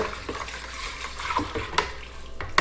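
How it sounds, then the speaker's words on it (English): Spoon stirring a batch of orange mead in a fermenting vessel, a few soft liquid swirls and light clinks against the container, close and fairly quiet. "So, just a quick stir."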